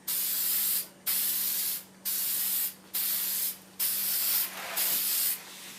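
A spray gun lays a primer coat in six even bursts of loud hissing, each lasting roughly half a second, with brief pauses between the strokes and a faint steady hum underneath.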